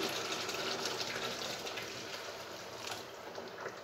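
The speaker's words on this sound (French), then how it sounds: "Bon, je vais rajouter maintenant donc le bouillon." Broth pours steadily into a pot for a cheap meatball and vegetable dish, a continuous gushing, splashing stream heard close and alone for several seconds.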